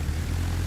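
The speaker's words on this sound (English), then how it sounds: "I got the plane to go up this time" A propeller plane taking off from a warship in World of Warships, a steady droning engine hum with a low pulsing tone, brief and constant with no talk.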